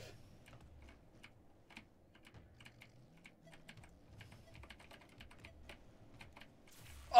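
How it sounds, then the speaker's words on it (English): A computer keyboard and mouse in use while gaming, with faint, sparse key taps and clicks scattered through the clip and a louder burst at the very end. "Playing on mouse and keyboard."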